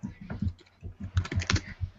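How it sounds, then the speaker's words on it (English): People type on computer keyboards during a group search session, producing rapid, close clusters of clicking keystrokes in an uneven rhythm. "So everyone's typing on this."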